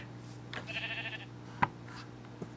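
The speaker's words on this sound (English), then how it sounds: "I see my sheep is walking around here, just being nice and peaceful" A sheep bleats once in the Minecraft video game, a short bleat over a steady low hum and faint clicks.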